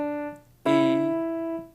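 Two clean keyboard notes with steady harmonics, a soft tone fading before a louder struck note at about 0.65 s that sustains and slowly decays, from a beginner stepping up the white keys from middle C.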